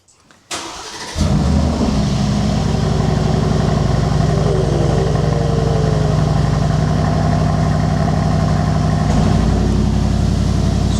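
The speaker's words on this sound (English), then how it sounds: "This one's a growly V8." Aston Martin V8 engine catches after a short crank, then settles into a loud, steady, growly idle close by, with a faint rise in revs near the middle and no talk.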